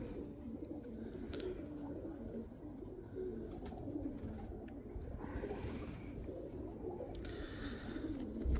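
Pigeons, breeder birds in a loft in Bradford, UK, coo repeatedly and close by in soft throaty rolls over a constant background murmur, with a few faint chirps mixed in.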